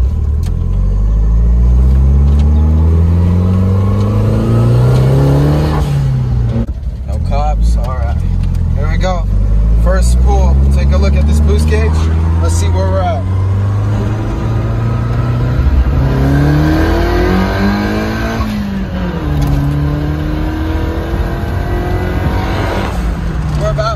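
A turbocharged SR20DET engine in a Nissan D21 truck revs hard at wide open throttle, loud and close, rising and falling through several pulls with whoosh and flutter, while someone speaks over it.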